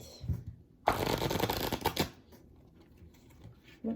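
A Tarot Familiars tarot deck being shuffled, heard as a close, dense riffling burst of cards lasting about a second, then a few softer taps and rustles, with no talking.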